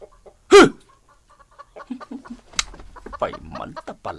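Chickens cluck and squawk in a short burst near the start, followed by scattered softer clucks and a person talking over the flock.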